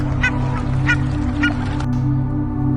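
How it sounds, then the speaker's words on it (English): A waterfowl gives three short, evenly spaced honking quacks over a steady low hum. "Duck, a wobbly swimmer who loves to splash in ponds and quack."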